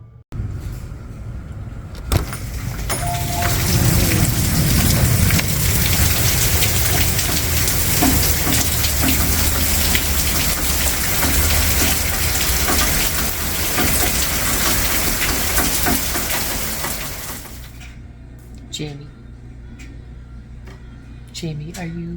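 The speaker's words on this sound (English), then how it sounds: "these raindrops are even bigger" Heavy rain with big drops in Texas hammers loudly and steadily on a self-built camper van for most of the stretch, then stops abruptly, leaving quieter sounds and a voice talking.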